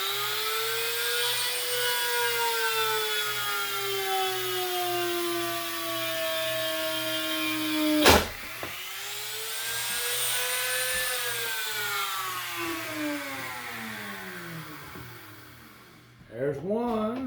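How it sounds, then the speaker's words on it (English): Power drill boring a hole into the wooden body of a homemade rat rod, a steady whirring whine that dips and climbs in pitch, stops briefly, then runs again before fading out, with a short burst of speech near the end. "let's drill this out."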